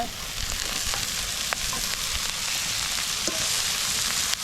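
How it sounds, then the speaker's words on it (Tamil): Onion, green chili and chopped ponnanganni greens sizzle steadily in hot oil as they are stir-fried, with occasional faint scrapes of a stirring spoon. "வெங்காயம் பச்சை மிளகாய் எல்லாம் வதங்கிட்டுது எங்களுக்கு."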